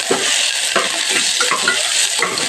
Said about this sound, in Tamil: அந்த வெங்காயம் போட்டுருவேன்.